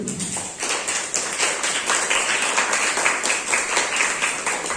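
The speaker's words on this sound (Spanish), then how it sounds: "Denle un aplauso al Señor." A church congregation applauds during a Spanish-language evangelical sermon, a dense, steady wash of many hands clapping that stays loud and continuous throughout, with no one speaking over it.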